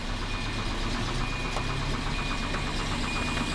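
A Volvo 240's engine idles steadily with a rough, low chugging and light knocking texture, moderately close and without talk.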